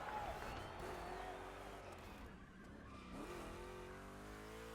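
Two big-block Chevrolet cars race through rough turns in a Gymkhana event in The Crew Motorfest, engines roaring and revving steadily with rising pitch sweeps and tire noise throughout.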